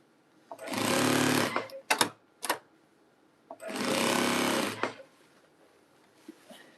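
A sewing machine stitching a jelly roll rug runs in two loud bursts of rapid, close mechanical whirring, each lasting over a second, with short clicks and knocks between them and brief quiet gaps.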